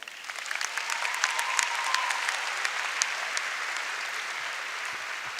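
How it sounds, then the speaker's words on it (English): Graduation audience at a high school ceremony applauding steadily, a dense wash of many hands clapping at moderate distance, sustained throughout without talk. "let's have a round of applause"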